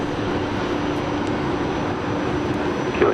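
Fokker aircraft at Brisbane Airport, a steady broad engine roar holding at a constant level throughout, loud and sustained, with no talking.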